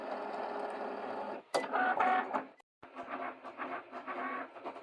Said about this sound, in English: Now we hit the go button and wait for Cricut to work its magic.